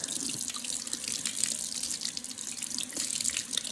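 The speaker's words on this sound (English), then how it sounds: "step 8 is rinsing my hands, again in fresh running water" Hands rinsed under a running tap into a sink, a steady close hiss and splatter of flowing water throughout, with no talk.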